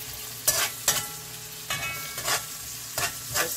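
Scallion and vegetables sauté in a pot for Jamaican-style pop chow, a close steady sizzle broken by several sharp scraping stirs of a utensil spaced about a second apart.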